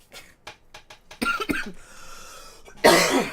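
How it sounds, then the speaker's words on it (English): A series of short, breathy coughs and throat sounds, then a louder, harsher cough burst at the end, close and alone without talk. "Sorry, just had a cough lately that just isn't a fan of me."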